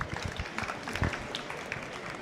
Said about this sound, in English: Please give a round of applause to Pak Dan.